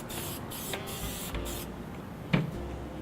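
Repositionable adhesive tack is sprayed onto a wood piece for a scroll saw project in several short, hissing aerosol bursts close by, followed by a faint pause and a single small clunk.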